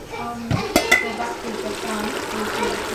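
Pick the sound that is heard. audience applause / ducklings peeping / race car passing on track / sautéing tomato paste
sautéing tomato paste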